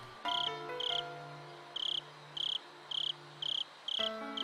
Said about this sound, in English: The quiet chorus of the insects was pleasing to the ears.